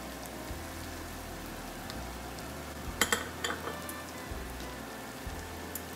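Spices for a crab curry fry in a pan, cumin and coriander powder among them, giving a soft, even sizzle with a brief burst of louder crackle near the middle, no voices.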